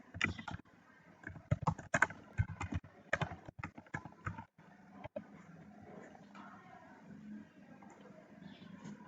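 A computer keyboard being typed on, with a busy burst of close, uneven key clicks for several seconds that then thins into a few quieter taps.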